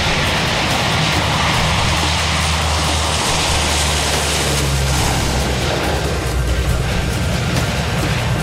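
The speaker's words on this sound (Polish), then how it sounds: "EC-130 może startować." A military EC-130 turboprop aircraft runs up for takeoff, a loud steady engine roar with low droning propeller hum that swells and holds throughout, no voices.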